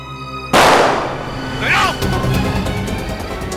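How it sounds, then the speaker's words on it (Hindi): A single sharp, loud gunshot cracks out at close range, then echoes and rumbles away while people talk in the background. "सीआईडी ऑफिसर पर गोली चलाई"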